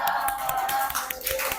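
A classroom of students at a Indonesian senior high school applauding together, a dense continuous patter of many hands clapping nearby for a short burst.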